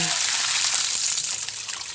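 Water pours into a cooking pot before fish are added, a steady rushing gush that fades a little toward the end.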